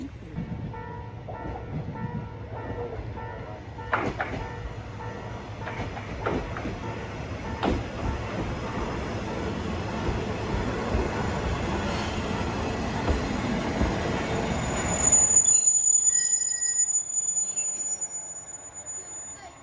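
An Isumi Railway train runs through rural Japan, a steady rumbling roll of wheels on track with intermittent squeals and a brief horn toot, the rumble cutting off near the end, with faint voices.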